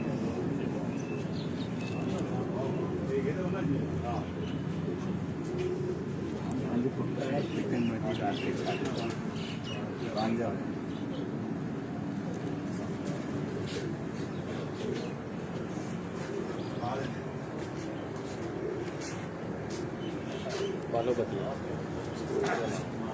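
Low, steady cooing of pigeons rolls on throughout, mixed with faint chirps and a broad background hum, while someone talks over it.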